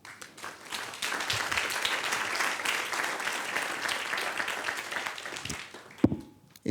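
A conference audience at a pitch competition applauds steadily for several seconds, a dense wash of many hands fairly distant, swelling quickly and fading out near the end.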